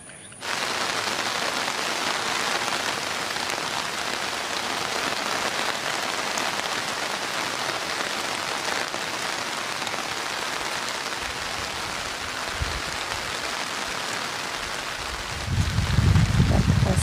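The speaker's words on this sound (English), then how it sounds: "And it rained again." Steady rain falls in the Indian forest at Thattekkad, a dense, even hiss on the ground and leaves that holds at the same loudness throughout, with a low rumble rising near the end.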